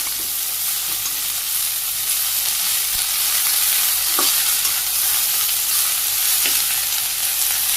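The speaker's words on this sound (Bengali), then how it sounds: "আমি একটু নাড়াচাড়া করে নিচ্ছি 2 মিনিট।" Vegetable stems frying in oil with cumin and chopped onion in a pan, stirred by hand: a steady, loud, close sizzle runs throughout, with faint scraping knocks from the stirring.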